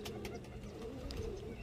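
A pigeon coos softly while being handled, a few low throaty coos over a muffled background, close but quiet.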